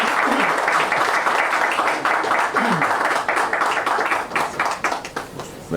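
An audience at a signing ceremony on a new medical coverage rate applauds in dense, sustained clapping that tapers slightly toward the end.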